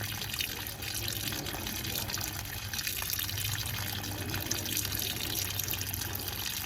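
Water drains steadily from RV plumbing through a small PVC valve during winterizing, a continuous close trickling and splashing flow that holds even from start to finish with no talk over it.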